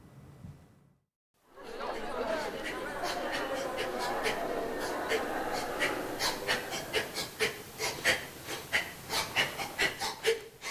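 Dancers in an elbow dance performance at the Théâtre de la Madeleine in Troyes pant heavily, quick rhythmic breaths growing sharper and more pulsed after a short silence, with a murmur of voices mixed in.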